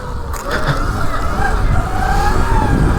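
A modified Surron electric dirt bike pulls a wheelie, its motor whine rising in pitch over rushing wind noise and tire roar, loud and close for a few seconds.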